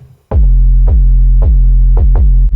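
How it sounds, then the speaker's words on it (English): A sustained 808 bass line with a layer of digital white noise for gritty texture. The deep notes retrigger about six times, with a hiss riding over each one, loud and close. "Then added noise with texture, just digital white noise."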